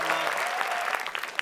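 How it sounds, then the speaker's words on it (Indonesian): Audience clapping for a contestant named Alma on an Indonesian game show, a dense burst of applause with a few sharper individual claps near the end, steady and moderately loud throughout. "tapi kita beri tepuk tangan untuk Alma."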